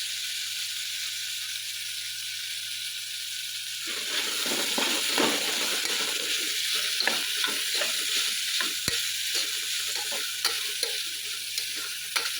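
Spices with turmeric frying in a pan make a steady sizzle that grows busier as stirring begins, with scraping and clicking from the utensil, near and unbroken, with no talking.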